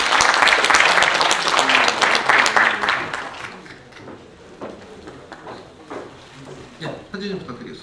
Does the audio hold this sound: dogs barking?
no